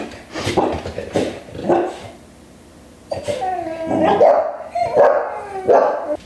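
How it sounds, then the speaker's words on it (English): Several puppies bark in short, high yappy bursts, some whining and overlapping, close by with brief quiet gaps. "so that the puppies are barking."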